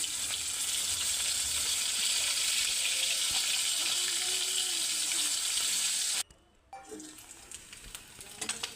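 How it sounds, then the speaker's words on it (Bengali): Koi fish fry in oil with a constant bright sizzle, turned and stirred now and then, the hiss cutting off abruptly near the end and leaving a quieter, intermittent spitting. "কই মাছগুলো ভাজা রেডি।"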